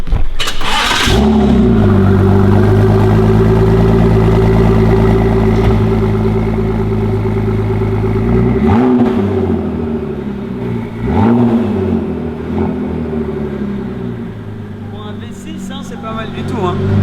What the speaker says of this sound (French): V6 EcoBoost, ça fait un bruit magnifique.